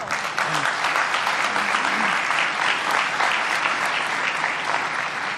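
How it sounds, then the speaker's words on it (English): Steady, dense applause from a crowd at a press conference, loud and continuous throughout with no pauses. "the clapping really cuts into the time"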